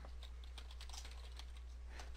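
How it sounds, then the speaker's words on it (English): Quick, light clicking of fingers typing on a computer keyboard, an irregular patter of key taps running steadily for about two seconds at low volume with no voices. "I'll just type it up here."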